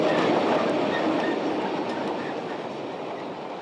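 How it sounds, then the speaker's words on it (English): Electric locomotive on a 900mm gauge electrified brown coal mine railway at Espenhain, a steady loud rolling rumble of rail running with faint clatter, slowly easing in level, no voices. "an electrified mine railway like this one at Espenhain, with the 900mm gauge electric locomotive"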